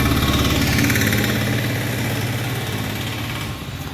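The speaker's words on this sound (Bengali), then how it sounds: "দেখুন মোটর সাইকেলে করে চা বিক্রি করে বেড়াচ্ছে।" A tea seller's motorcycle engine idles close by, a steady, loud, rumbling throb that holds even and fades slightly toward the end, with no voices over it.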